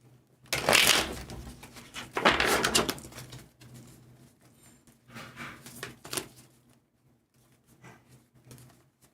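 Tarot cards are shuffled in three separate bursts of crisp riffling and flicking, close up, with quieter handling between them and no talk.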